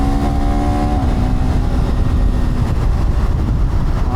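A KTM 390 Adventure R motorcycle engine pulls hard in fourth gear on an open road, a loud, continuous close-up roar with rising engine tones and steady wind rush.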